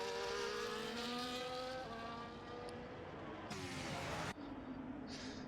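An F1 car in the F1 24 racing game brakes hard at the Baku circuit, with loud, steady engine tone dropping through the gears and a brief harsh burst of tire scrub near the end.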